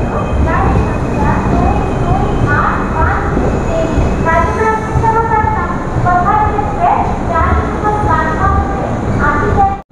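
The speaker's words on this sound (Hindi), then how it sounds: "हमारी ट्रेन पहुँच के अपने 8 होल्ट खुर्दा रोड" A Shalimar–Visakhapatnam superfast express train pulling into Khurda Road Junction: loud, continuous rumble of wheels and carriages close by, with repeated tonal horn or signal tones cutting through, and voices faintly beneath.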